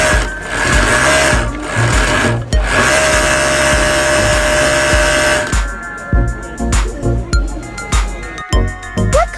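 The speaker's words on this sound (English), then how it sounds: "a specialized overlock machine that knits the thread into decorative lace patterns" An industrial overlock machine knits thread into a decorative lace border along a fabric edge, running loud and continuous with a dense whirring drone that turns to a rapid stuttering chatter in the last few seconds.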